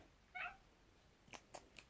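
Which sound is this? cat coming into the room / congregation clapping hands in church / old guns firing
cat coming into the room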